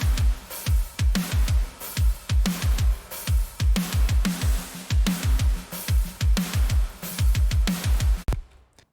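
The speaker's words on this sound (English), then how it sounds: "Alright, here's how the drums sound in solo." A mixed drum kit played solo: punchy kick and snare hits in a steady, driving groove with cymbals washing over the top, loud and close, ending in an abrupt cutoff.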